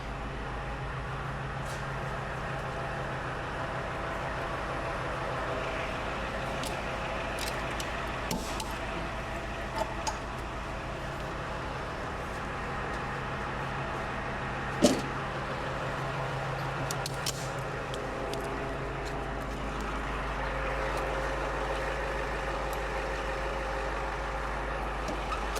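A tow truck idles with a low, steady engine rumble while its wheel lifts are worked, with scattered clunks and a single sharp mechanical knock partway through.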